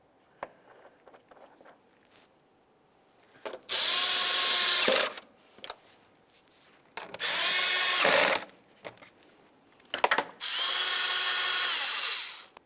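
Power drill or nut driver tightening mounting nuts on the inner forward fender liner of a 2003-2011 Mercury Grand Marquis, three loud sustained whirring bursts with short pauses and faint clicks between.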